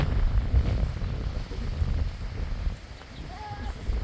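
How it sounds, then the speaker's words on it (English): Gusty wind buffets the microphone on a farm at feeding time with hay blowing, a low rumbling roar that surges and eases; a faint voice is briefly audible. "Now wait for the wind to go away."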